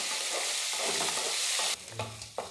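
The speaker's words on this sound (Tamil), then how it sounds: "வெங்காயம் கேரட் எல்லாமே நல்லா வதங்கிடுச்சு" Onions and carrots sautéing with salt and turmeric for a chutney: a loud, dense sizzle under stirring, then quieter scraping and stirring with a few sharper clinks.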